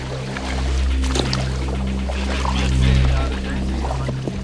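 A boat carrying a military team travels along a river, with a steady low motor drone and a continuous wash of water that swells and fades, heard alongside voices.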